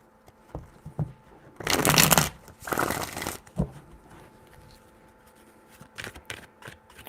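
Tarot cards are shuffled by hand for a reading, giving three brisk riffling bursts close to the mic, followed by a few light card taps in an otherwise quiet room.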